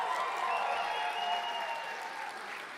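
Applause for a Game of the Year nominee at the Swedish Game Awards at Berns, Stockholm: soft, distant clapping mixed with sustained tones from a band and orchestra, fading slightly toward the end.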